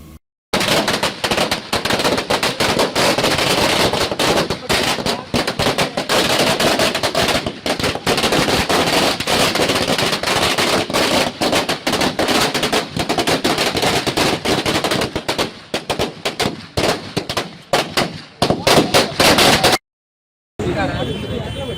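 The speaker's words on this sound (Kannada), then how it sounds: "ಕಾಂಗ್ರೆಸ್ ಪಕ್ಷದ ಮುಖಂಡರು ಹಾಗೂ ಕಾರ್ಯಕರ್ತರು ಪಟಾಕಿ ಸಿಡಿಸಿ ಸಂಭ್ರಮಾಚರಣೆಗೈದರು" Firecrackers set off by Congress party workers celebrating an election win in Byndoor burst in a dense, continuous rattling string of sharp cracks. The barrage stays loud for about twenty seconds, then breaks off briefly and resumes.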